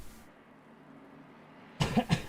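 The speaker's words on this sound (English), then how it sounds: "you're going to hear the odd cough" A short burst of coughing rises suddenly after a quiet stretch, a couple of close, rough coughs.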